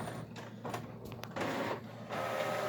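HP Officejet Pro X series printer running a print quality report, giving steady mechanical whirring with short gaps and bursts of feed and carriage motion, fairly quiet and with no voices.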